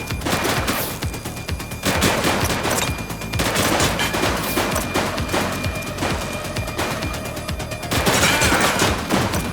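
Loud, sustained gunfire in a police shootout in The Precinct video game, with dense overlapping bursts and rapid shots that continue almost without pause and surge in waves.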